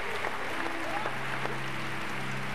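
Belgian fans applauding and cheering after a Champions League table tennis match, a dense, steady crowd clapping heard at a distance, with a commentator talking over it.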